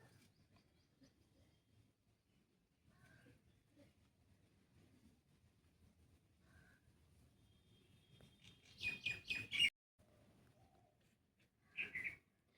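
A pair of common myna parents call out loudly for their fallen, shivering chick, giving a burst of harsh, rapid squawks followed by a brief pause and then another short call. Softer, faint background rumble runs beneath the calls.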